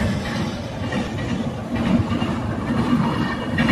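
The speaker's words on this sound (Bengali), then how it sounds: "একটা ট্রেন যাচ্ছে" Steady low rumble of an express train crossing a bridge, continuous and fairly loud throughout with a faint rhythmic rattle of wheels.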